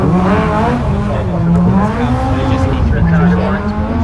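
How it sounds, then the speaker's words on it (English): A Porsche boxer six engine howls at a race meeting, a loud, close rising and falling wail that stays continuous, with a commentator talking over it throughout. "That familiar Boxer 6 engine note."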